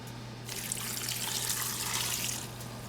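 About two cups of vinegar pours in a continuous liquid stream for a small batch of cowboy candy, a steady close splashing rush that fades slightly at the end.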